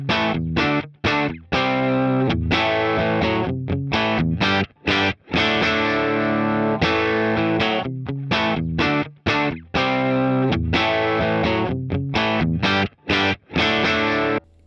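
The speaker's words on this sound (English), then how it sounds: "So now we've got a completely clean guitar signal." Clean electric guitar played through a Boss Katana amp with no delay or reverb, recorded into a looper: steady strummed chords and picked notes, loud and upfront, with short gaps between phrases and no talking.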